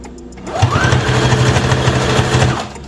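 A Singer CS6000i sewing machine spins up to its highest speed, a loud rapid mechanical whir that rises within half a second, holds steady for about two seconds, then stops.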